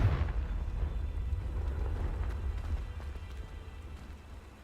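A Confringo fire-blast spell from the Hogwarts Legacy game erupts with a sudden low explosive boom, followed by a sustained rumbling roar that slowly fades across several seconds.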